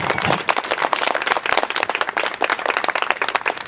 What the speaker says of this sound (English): How about a big round of applause for our next representative?